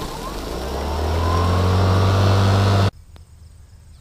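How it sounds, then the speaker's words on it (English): A battery lawn mower's motor whirs loud and close, its pitch rising slightly as it runs, then cuts off abruptly, leaving quiet room tone. "Now all you have to do to start it is press this button and then pull the handle."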